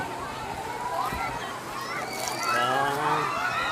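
Water churns and splashes in a crowded wave pool at a water park, a steady wash of sloshing under children's voices and chatter from people nearby.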